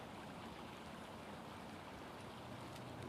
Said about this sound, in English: that's the water you're hearing right there next to me as it flows over those rocks.